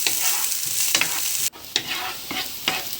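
Onions sizzle as they are stir-fried in a pan for a seafood dish, with a bright, hissing fry broken by several sharp scraping stir strokes up close and no one speaking.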